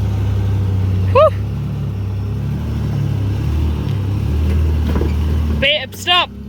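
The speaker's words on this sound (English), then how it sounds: "The car really wants to get up there." A 4WD with a faulty rear locker and no front locker grinds up a rocky off-road track, its engine a low steady rumble close by, with short voices breaking in over it.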